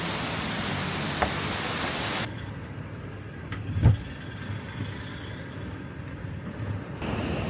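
Steady rain hisses continuously, falling on surfaces nearby, with a soft thump partway through and no voices.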